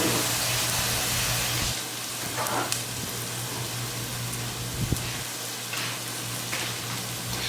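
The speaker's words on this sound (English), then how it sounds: "So we're going to let these onions cook just for a little bit." Onions fry in a pan on a stove set to 8 out of 10, a steady, even sizzle with soft crackles and occasional louder pops throughout.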